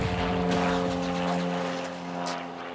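A police helicopter flies over a housing estate in Lyon, its rotor and engine making a steady, droning hum with strong tonal lines that fade slightly toward the end.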